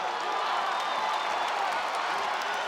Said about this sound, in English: Crowd at a fever pitch here as Zhang Weili and Joanna Jędrzejczyk go toe-to-toe